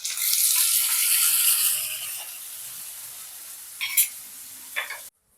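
Chopped medium tomatoes hitting fried onions in a pan for a spicy pomfret fish curry, a loud hiss of sizzling that eases into a steady fry, with a few stirring clinks near the end.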